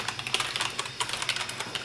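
Fast, forceful keystrokes on a Razer BlackWidow membrane keyboard clatter close to the mic, a dense irregular patter of rattling clicks with no talking over them.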